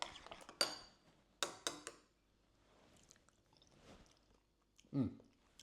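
Chewing and biting while tasting a homemade ranch dip, with crisp bursts of mouth noise, a few cutlery and dish clinks, quiet pauses between bites and one louder final crunch, all close up.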